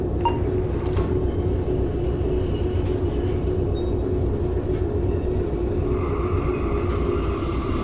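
Locomotive in the railway game Derail Valley drifting through a rail switch, a continuous loud low rolling rumble of wheels on track with faint clanks and no talking.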